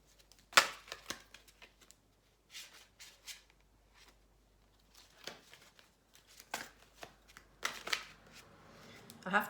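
A deck of tarot cards being shuffled in bursts of riffling and slapping, close and crisp, with quiet pauses between rounds and a voice speaking softly at times.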